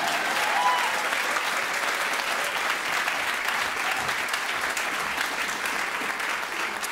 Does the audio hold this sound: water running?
no